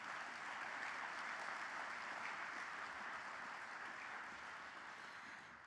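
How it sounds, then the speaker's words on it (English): Steady, dense applause from a large audience at a grand opening ceremony for a squash center, a continuous even wash of many hands clapping that holds level and eases slightly near the end. "So let's give them a round of applause."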